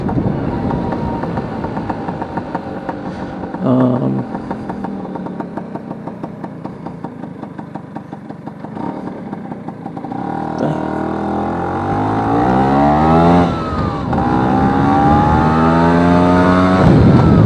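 Vespa P200e 200cc two-stroke scooter engine while riding, a loud buzzing drone that rises in pitch as it revs up and accelerates near the end.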